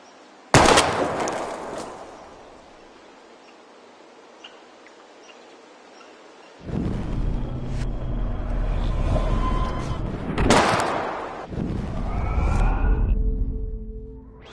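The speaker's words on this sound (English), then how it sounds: "We're gonna shoot all these bottles without wasting a single bullet." Gunshots ring out in the video game Life is Strange as bottles are shot at, with a sharp loud report followed by a long fading tail, then another blast later over background music and tones.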